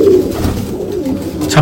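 Pigeons on a rooftop loft coo steadily in a close, continuous low burble, several birds overlapping without pause.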